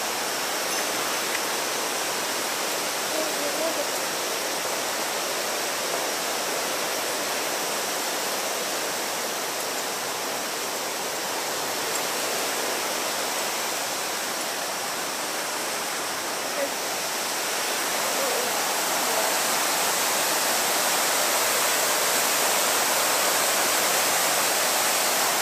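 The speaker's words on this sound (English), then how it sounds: "There's an amazing waterfall just there, which we woke up to." Waterfall along the Annapurna trek in Nepal, a steady broadband roar of falling water that stays constant and fairly loud throughout, with no clear speech over it.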